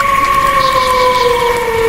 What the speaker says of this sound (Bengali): ওই দূর কথা থেকে যেন ভেসে আসছে শেয়ালের ডাক